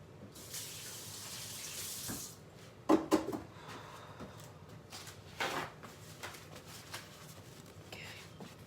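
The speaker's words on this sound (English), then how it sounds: "Let me wash my hands again." Tap water running into a kitchen sink as hands are washed, a soft steady hiss with splashing, a few sharp knocks and bumps from handling around the basin, close but quiet, with no talk.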